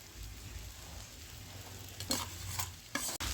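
Moth beans and spices are stirred in a pan, a low background sizzle broken by a few louder scraping strokes near the end.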